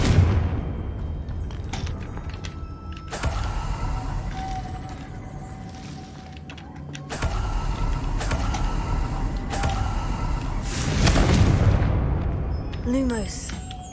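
Explosions from the Confringo fire spell in Hogwarts Legacy burst as sharp booms and rumbling blasts at several points in a busy game mix, with a voice speaking at times.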